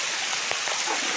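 Steady rain falls during a hike at Holywell Nature Park in Jamaica, a dense even hiss with no voices over it.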